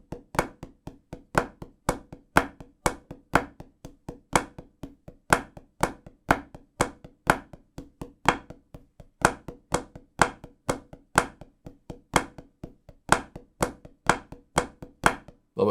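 Flam mills, the windmill drum rudiment, played in a steady stream of sharp, paired flam strokes at an even quick tempo, crisp woody taps close up with no voices.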